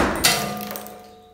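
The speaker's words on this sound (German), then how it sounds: "Ich zeige es euch jetzt noch kurz mit dem anderen Hammer, den ich hier habe." A hammer strikes a concrete corner, knocking a piece off with one sharp, close metallic crack and clang that rings and decays over about a second, with a faint second tap.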